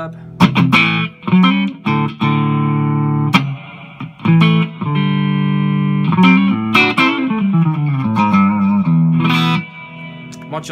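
Electric guitar through a Blackstar ID Core 100/150 combo amp with a splash of reverb, chords and sliding melodic phrases ringing out with a washy tail, loud and up front, no voices.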